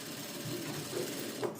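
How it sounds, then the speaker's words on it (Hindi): Sewing machine running a straight seam on a padded princess-cut blouse, a steady, close, continuous whirring drone with no talk over it. "और यहां से हम ये सीधी सिलाई लगाएंगे।"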